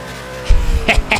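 Low engine rumble from a Ford Transit van accelerating in the racing game Forza Horizon 4, a sudden deep roar kicking in halfway through and holding steady, with a voice talking over it.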